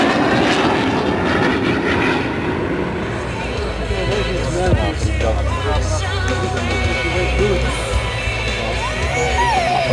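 A vintage fighter-bomber roars past at the SIAF 2012 air show, its engine drone loud and steady beneath crowd babble for most of the stretch.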